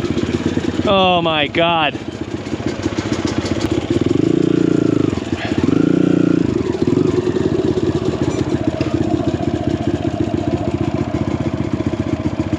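A bump-started enduro motorcycle engine runs steadily on a trail, a mid-pitched clattering idle with occasional revs continuing throughout, while a person speaks over it.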